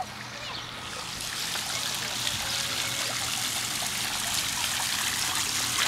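A rose-garden water fountain trickles steadily and fairly close, a continuous bright splashing wash that holds level throughout with no talk over it.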